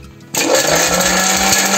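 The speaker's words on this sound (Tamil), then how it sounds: "தேங்காயும் ஏலக்காயும் நல்லா அரைச்சிட்டோம்." A kitchen mixer grinder whirs on suddenly and runs loud and steady, grinding coconut and cardamom in its jar, with a high motor whine and a rough churning rumble close by.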